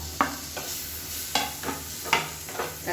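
Chopped tomato sautés in a pan for mushroom sukka, a steady close sizzle broken by about four sharp spatula scrapes at an uneven rhythm.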